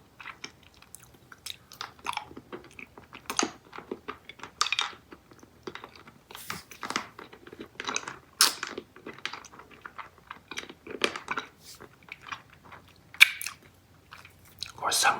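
Eating Charms Valentine watermelon sour lollipop candy up close: intermittent crunching bites and sticky mouth clicks in irregular bursts, close and quiet, with soft murmured talking in places.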